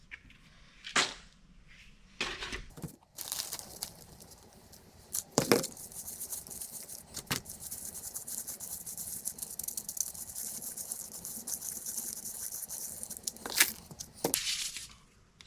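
Budget potting mix is stirred by hand in a container, giving gritty rustling and scraping with several sharp crunchy bursts and pauses between them.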